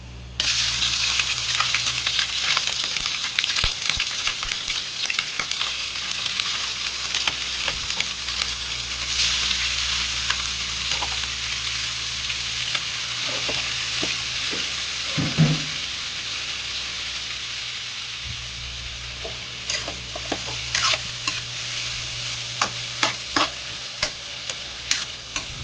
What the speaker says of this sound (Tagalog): Ngayon guys ay igisa-gisa muna natin yung manok.